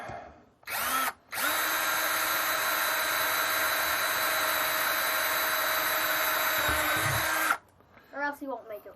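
A power drill bores through material while an ugly balun for HF is built from coax: a couple of short bursts, then one long, loud, steady whine lasting several seconds, and a voice speaks briefly after it stops.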